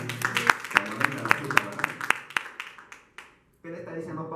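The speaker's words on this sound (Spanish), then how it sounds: "Hay un aplauso a Dios por esa cita." A church congregation claps in rhythmic, steady beats for a few seconds, fairly close, then fades out briefly before a voice resumes.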